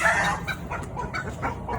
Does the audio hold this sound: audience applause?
no